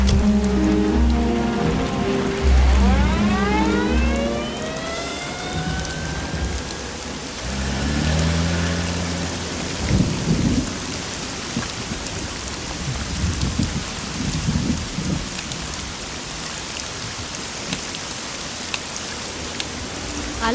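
Heavy rain pours down steadily with rolls of thunder, a constant loud wash of drops on surfaces, with tonal music sweeping over it early on.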